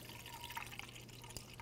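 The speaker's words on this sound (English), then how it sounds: "now we're gonna fill up our radiator with new coolant" Pre-diluted 50/50 coolant being poured into the radiator of a 2011-2016 Hyundai Elantra, a faint, steady trickle with a few soft drips, heard alone and close.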